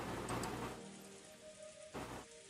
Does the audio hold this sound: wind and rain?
yes